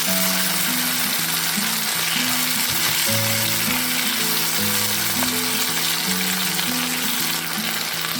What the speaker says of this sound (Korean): 재료를 다시 한번 함께 볶아주세요.